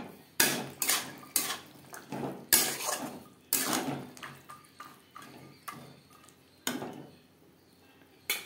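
Peas and spices for ghugni are stirred in a pan, with a metal spoon clanking and scraping against it in irregular sharp knocks and short scrapes, close and fairly quiet.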